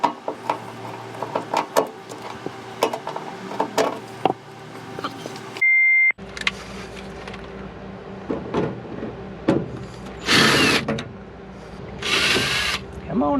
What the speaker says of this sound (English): to get my electric drill out